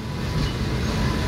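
The Howrah-Deoghar Express passenger train rumbles past at close range, a steady loud roar of rolling wheels with a faint metallic ring and no pauses.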